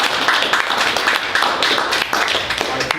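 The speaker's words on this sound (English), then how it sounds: "And clap for him" An audience claps for Joe and the crew at Malvern during an interview event: dense, steady applause of many hands filling the whole moment at close range, with no talk over it.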